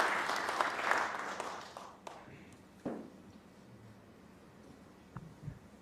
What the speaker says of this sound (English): The applause there, Alan, warranted.